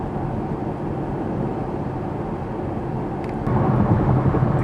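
A Chevrolet Camaro SS drives along the Pacific Coast Highway with a steady engine and road drone that grows a bit louder near the end, and no one speaks.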